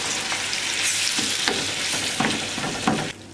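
Tomatoes frying in hot oil for çakallı menemen give a loud, dense sizzle, broken by a few scraping stirs, then drop off sharply at the end.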